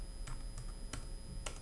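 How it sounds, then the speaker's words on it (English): Several separate clicks of the F4 function key on a computer keyboard, pressed one at a time with short uneven pauses, close and fairly quiet with no talking. "if I want to switch between my grid modes, I just hit the F4 key repeatedly"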